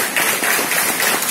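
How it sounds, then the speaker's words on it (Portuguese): Church congregation clapping together during a Sunday service, a short burst of steady, even applause from many hands. "Nós podemos aplaudir a Deus pela vida dele."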